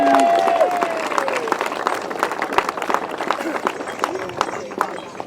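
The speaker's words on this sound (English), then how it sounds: "let's give him a round of applause. Steve Schofield." Sustained crowd applause and clapping at a grasstrack motorcycle racing meeting, steady and fairly loud throughout, with a few voices mixed in.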